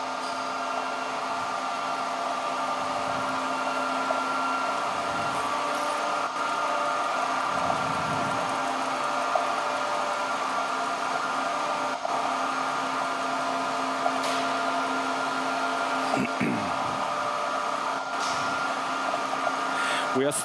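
The Alexanderson alternator motor at Grimeton radio station running up to speed, a steady, loud electrical-mechanical hum with sustained tonal whine, continuous throughout, with occasional speech over it.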